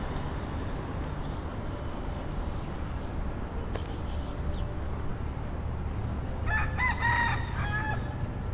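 A rooster crowing in downtown Miami on an afternoon, one clear crow rising near the end over a steady urban hum and distant traffic noise.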